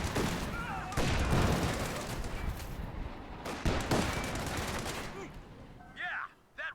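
Battlefield gunfire in Company of Heroes 2 Ardennes Assault, with bursts of rifle and machine-gun fire crackling in dense volleys, sharp loud shots punctuating the din, and brief game radio voices near the end.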